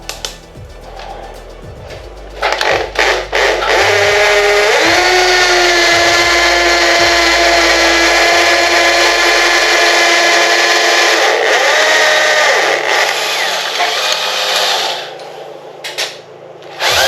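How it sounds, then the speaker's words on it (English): A power drill fitted with a 6mm masonry bit bores holes for a chrome pan shelf above a cooker, a loud sustained whine with a dip in pitch midway, framed by brief bumps and handling knocks at the start and end. "Okay, so I'm just using a 6mm masonry drill bit."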